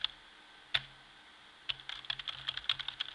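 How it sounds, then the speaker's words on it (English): Keys tapped on a computer keyboard while an EMF meter is held near it: one sharp click, a pause, then a quick irregular run of close, crisp keystrokes. "So I press keys on the keyboard"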